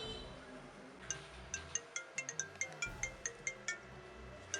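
A phone ringtone plays with a quick, repeating electronic tone pattern, moderately loud over faint room background, with no talking during the ringing.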